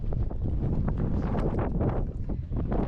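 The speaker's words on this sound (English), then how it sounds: "Oh my gosh, it's windy." Wind buffets the microphone in loud, continuous gusts, a rough low rumble with no voices, at the pyramids of Giza.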